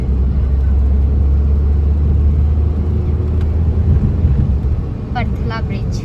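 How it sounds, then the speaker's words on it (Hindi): Road traffic on a new flyover bridge, a loud continuous low rumble of passing vehicles close by. A brief voice or horn-like tone cuts in near the end. "और अब देखिए ट्रैफिक"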